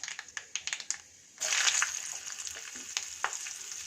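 Black cumin seeds and two green chillies drop into hot oil left from frying koi fish, bursting into a loud, steady sizzle after a few light clinks, with crackles and pops continuing close by.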